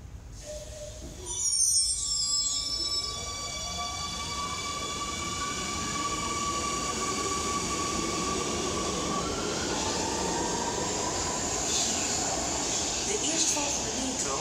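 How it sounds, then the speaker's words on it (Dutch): A metro train on line 52 pulls into Rokin station with rising electric whine and screeching wheels, then a sustained rumbling roar as it settles alongside. "Deze metro is lijn 52 richting Noord."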